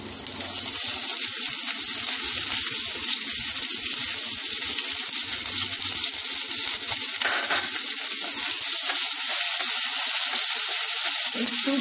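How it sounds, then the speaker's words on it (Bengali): Onion frying in oil with black cumin seeds for a fish curry, a loud, steady hiss of sizzling that holds evenly throughout, close and unbroken. "একটু পেঁয়াজটা ভাজবো।"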